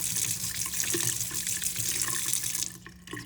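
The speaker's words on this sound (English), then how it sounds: "when you put the water on and rinse it, there should be no pigment coming out" A sink tap runs steadily while a paintbrush is rinsed clean of acrylic paint and soap, a continuous close splashing rush that cuts off near the end.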